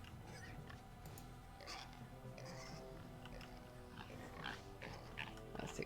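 Pigs grunting in Jade Empire, a steady run of low snorting oinks and grunts layered over ambient background, quiet and continuous.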